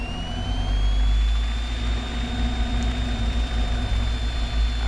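A light aircraft engine runs steady at 1700 RPM during the pre-takeoff run-up, a loud close low drone with a constant high whine riding above it and no talk.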